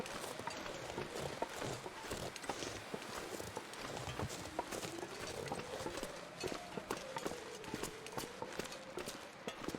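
Footsteps of a character trudging through the wilderness in The Long Dark, a steady run of close crunching steps in an irregular walking rhythm over a low wind-like bed.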